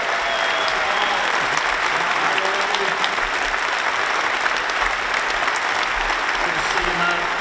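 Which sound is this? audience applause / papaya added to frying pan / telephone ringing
audience applause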